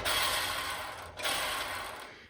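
A rotary card file cabinet mechanism, freshly oiled, is spun by hand twice, giving a steady close whirring rattle that fades, stops briefly, then swells and fades again.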